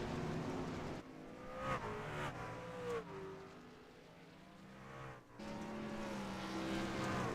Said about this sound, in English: I can hear some people shifting a little bit on the straightaways.